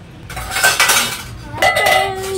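Steel kitchen vessels clatter and ring as one is lifted from a stacked tray, giving a couple of loud, close metallic clanks with lingering resonant tones.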